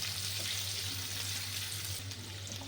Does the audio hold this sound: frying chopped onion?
yes